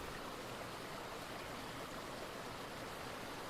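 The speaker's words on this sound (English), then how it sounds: "the running water in the brook" A brook's running water flows steadily as a soft, even wash of broadband rushing, constant and unbroken throughout with no other sounds standing out.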